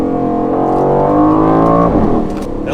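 An Aston Martin Vantage sports car accelerates hard on the road, its engine note climbing steadily through the revs before a quick upshift near the end, loud and close with no speech.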